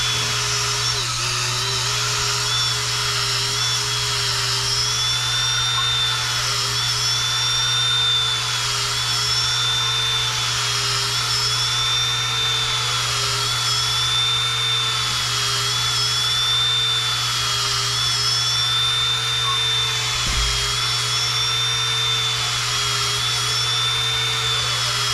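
A drill spins a rasp through a cork rod grip to ream it for a rod blank, a steady high whine with a low hum running close and continuous for the whole stretch, no voices.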